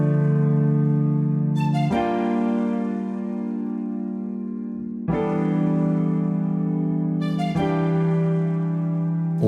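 Hip hop beat built from sustained woodwind ensemble chords and short spiccato string notes, chords changing every few seconds in a smooth loop, played alone without talking.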